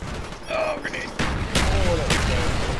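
Grenade blast during Call of Duty Black Ops gameplay, heard as sharp loud bursts with rumbling booms amid other game noise.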